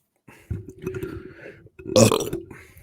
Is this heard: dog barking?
no